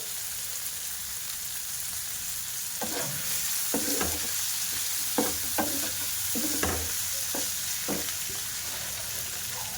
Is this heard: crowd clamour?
no